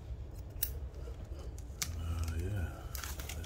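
Scissors snipping open foil Pokemon card packs: three crisp, separate cuts spaced about a second apart, close up, over quiet crinkling and room noise.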